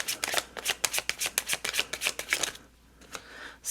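Tarot cards shuffled by hand in a quick run of crisp riffling flicks, close and fairly quiet, ending in a brief pause and a soft settling of the deck, with no talking.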